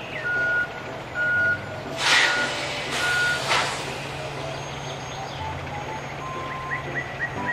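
A toy tow truck gives out a series of high, evenly spaced electronic reversing beeps, fairly quiet and alone, with a couple of brief, brighter bursts partway through.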